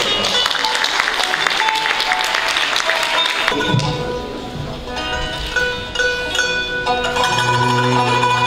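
Audience clapping at a Turkish music concert as the soloist is welcomed, dense applause for the first three seconds, then fading under instrumental music and tonal sounds.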